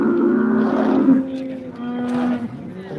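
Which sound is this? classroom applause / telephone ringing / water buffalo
water buffalo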